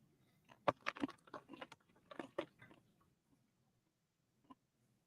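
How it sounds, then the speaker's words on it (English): Hot and spicy plantain chips are crunched close to the mic on a boat, a cluster of sharp crisp bites and chews in the first three seconds, then quiet with one last faint crunch. "can probably hear me chewing on what it is, plantain chips, hot and spicy"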